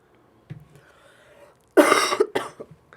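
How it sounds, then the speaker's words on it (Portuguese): A single close, harsh cough bursts out after a near-silent pause, followed by a couple of smaller throaty sounds. "Eu tava esperando você terminar pra tossir."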